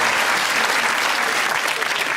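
A studio audience at a comedy panel quiz show breaks into loud, sustained applause, dense clapping filling the room from start to finish with no voices over it.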